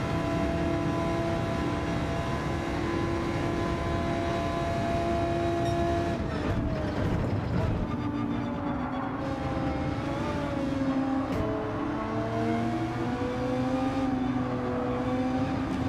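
A Porsche race car engine in Gran Turismo 7, a loud, sustained whine that holds steady, then drops and climbs again through gear changes and revs, heard close with no voices.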